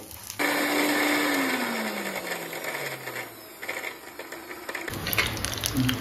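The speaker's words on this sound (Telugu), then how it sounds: "మనం అన్నీ కలిపి మిక్సీ జార్లో పట్టుకోవాలి." A kitchen mixer grinder whirs loudly as it blends chutney ingredients in its jar, its motor pitch sliding down before cutting off near the end, followed by jar rattles.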